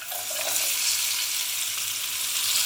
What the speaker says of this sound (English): Let's throw in the chard stalks